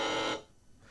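Quiz buzzer at a university campus quiz, a single loud buzzing tone lasting about a third of a second, then cutting off to quiet room noise.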